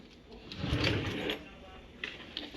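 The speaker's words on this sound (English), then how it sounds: "Apparently, we have a whisk drawer." A whisk drawer in a kitchen slides open with a low rumbling roll, followed by light metallic clinks of utensils inside.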